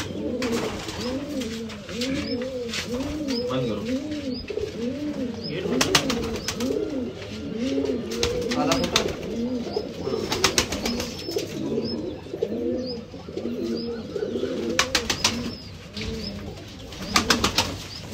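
Many pigeons coo in overlapping, rolling calls at a pigeon-flying tournament, carrying on steadily throughout, with occasional soft wing flutters and faint chirps in the background.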